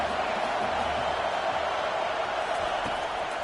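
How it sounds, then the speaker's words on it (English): A stadium crowd in a college football video game roars in a dense, steady wash of noise on a defensive third down, loud and sustained throughout, with commentary voices partly underneath. "Decibels rising as the crowd gets behind this defense on third down"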